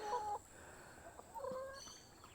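Backyard hens cluck and give soft, faint calls in short bursts, a couple of sequences separated by a pause, heard fairly quietly over outdoor ambience.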